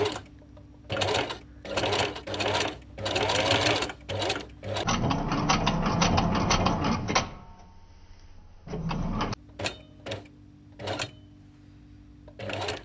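A Singer 4411 sewing machine fitted with a domestic walking foot stitches a scrap of fabric in several rhythmic runs, some short and one longer steady burst, close and loud with gaps between.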